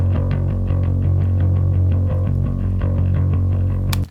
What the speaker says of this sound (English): And then the cleaner bass tone sounds like this.